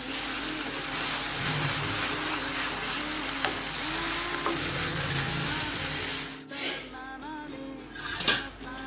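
A metal spoon stirs quail eggs through a masala in a frying pan, scraping and clinking against the pan over a faint sizzle, followed by a few sharper knocks near the end.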